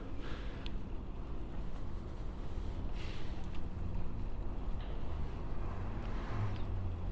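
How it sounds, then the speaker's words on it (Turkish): Steady seaside wind in İzmir rumbles and buffets the microphone throughout, a dense, low roar outdoors with faint background noise and no clear talk. "Bayağı rüzgar var çünkü burada."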